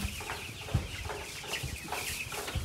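Fifteen- to sixteen-day-old broiler chicks on a farm chirp and cluck in a steady, overlapping chorus, with occasional soft thumps and rustling close by.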